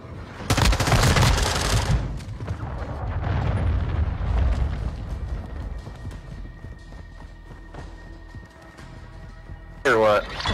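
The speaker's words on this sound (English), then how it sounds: "Friendly cruise missile deployed." Video game cruise missile strike and gunfire: a loud burst of rumbling, crackling impact noise opens, followed by trailing rumble and scattered shots, with voices talking throughout.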